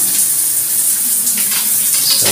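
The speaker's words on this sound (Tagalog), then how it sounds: "Sa telephone shower. Ayun. Ang layo ng abot ng tubig." Strong spray of water from a handheld telephone-style shower head in a home bathroom, a steady loud hiss filling the whole clip without pause.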